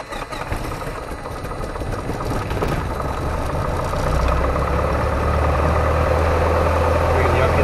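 The engine of a Piper Cherokee 140 light aircraft cranks and catches, then settles into a steady, loud, close idle drone that grows slightly heavier, with a voice speaking over the start.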